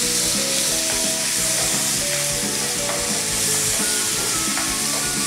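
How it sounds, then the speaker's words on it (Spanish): Chicken sizzles and fries in a pan while being stirred with a spoon, a loud constant crackling hiss with faint scraping of the utensil, no voices. "mientras el pollo se está cocinando"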